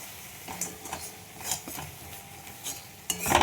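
A spoon scrapes and knocks around a pan as ground spices are stirred into a stingray fish curry, with a faint sizzle underneath and irregular close scraping strokes.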